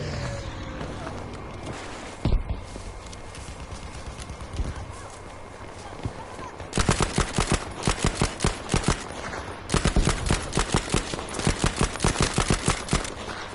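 Submachine gun fire in the Battlefield V video game, with sparse shots early, then long rapid bursts of automatic fire in the second half, loud and close amid other game sounds.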